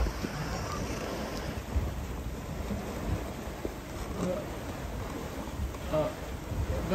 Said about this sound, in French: Il y a 14 nœuds de vent.